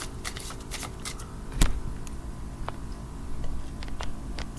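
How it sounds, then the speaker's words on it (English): Tarot cards being shuffled by hand, soft repeated riffling and ticking clicks with one sharper knock midway, faint and close. "do the shuffle up here."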